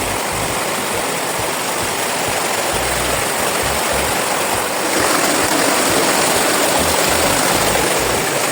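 A mountain river flows at a fork on a jungle trail, a loud, steady rushing of water close by. The roar continues without pause and swells slightly partway through.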